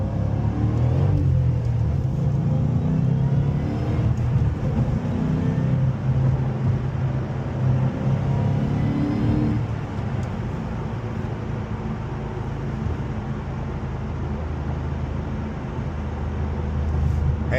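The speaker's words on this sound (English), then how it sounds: "Go for a little test drive in this 2010 Shelby GT500." A 2010 Ford Mustang Shelby GT500 cruises on a highway with a steady, loud engine drone and road rumble from inside the car. The drone shifts lower midway, then builds again.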